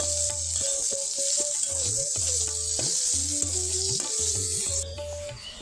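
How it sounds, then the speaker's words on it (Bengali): Ingredients for beef vorta fry in a little oil, a bright continuous sizzle broken by repeated scraping and clinking strokes of a spoon stirring them around the pan, with no one speaking. "তো দেখুন এইভাবে আমি নাড়াচাড়া দিয়ে খুব ভালোভাবে ভেজে নিতেছি।"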